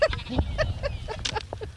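A farm goat in Eskra bleats in a quick series of short, wavering cries at close range over faint background noise.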